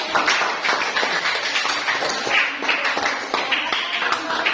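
Students in an Indonesian eighth-grade mathematics classroom clap together, a dense, steady patter of many hands lasting throughout, close and fairly loud, with scattered voices mixed in.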